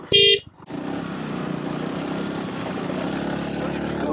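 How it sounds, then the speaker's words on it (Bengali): Steady engine drone of two motorcycles riding a hill road, continuous and fairly loud after a brief tone and pause at the start, with voices faint underneath. "দুইটা বাইক দিয়ে আমরা যাচ্ছি আর কি এই পাহাড়ে বাইক চালানোর একটা নতুন এক্সপিরিয়েন্স নিচ্ছি"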